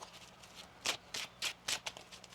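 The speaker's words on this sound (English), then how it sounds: "One more shuffle." A tarot card deck is shuffled by hand in a quiet room, giving a few soft, brief riffling bursts spaced roughly evenly apart, faint and close with no talk.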